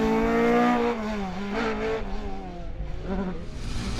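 A rally car on a circuit rally championship stage, driven hard, its engine roaring loud and close, pitch climbing and dropping through gear changes as it revs, with no talk over it.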